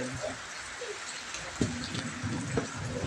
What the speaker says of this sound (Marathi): पाऊस छोटा आहे मित्रांनो मोठा पाऊस नाही